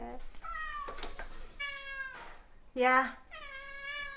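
A pet cat named Kid Cat meows several times in a row, close and clear, with a few quiet spoken words in between.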